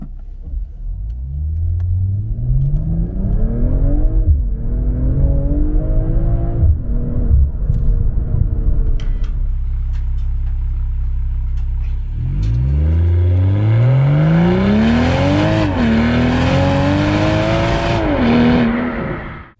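A 2023 BMW M340i LCI pulls away from a standstill with its Iconic Sounds setting on, the loud exhaust rising through two hard accelerations with a brief dip at a shift, rumbling and revving continuously without talk.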